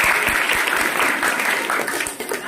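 Audience applause at a magic show, a dense, loud wash of many hands clapping that holds steady for a few seconds, with a voice faintly audible beneath.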